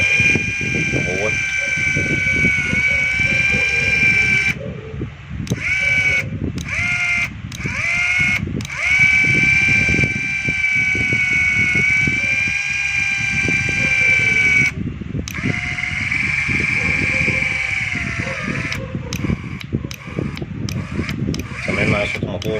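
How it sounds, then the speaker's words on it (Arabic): An HH1.2 car engine with a ticking fault runs at a steady idle under a constant mechanical whine, with someone talking over it throughout. "سامعين معايا صوت الموتور؟"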